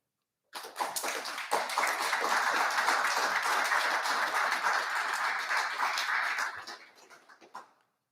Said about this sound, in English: give a round of applause to those who have supported you in your time at West Point